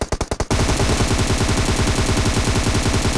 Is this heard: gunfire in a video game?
yes